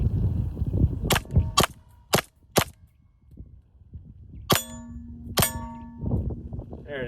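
Pistol shots fired at a target, four sharp cracks in quick succession followed by two more after a pause, loud and close with ringing tails, no talk between them.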